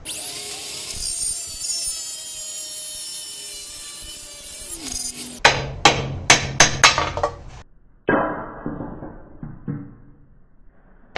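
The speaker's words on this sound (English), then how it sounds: "now I'm going to cut this off and then I'll punch it through" Metal hammer blows punching a wheel stud out of a car wheel hub on a 2007-08 Acura TL Type-S, about ten sharp ringing strikes in two loose bursts, loud and close after a few seconds of grinding noise.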